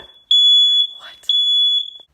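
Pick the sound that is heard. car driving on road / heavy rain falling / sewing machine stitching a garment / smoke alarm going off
smoke alarm going off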